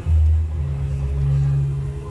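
A 1994 Chevrolet Monza GLS, stored for 19 years, starts up and runs with a loud, steady low engine rumble that swells slightly as it settles, heard alone without talk.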